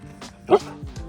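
A few short barks and yips from dogs at home after their owner's long day away, close by with a rising pitch on the loudest yelp.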